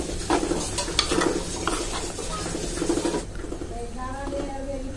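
Ground coconut is stirred into simmering ripe mango curry for mampazha kalan, with a soft sizzle and scraping of a spoon against the pot while a person talks over it.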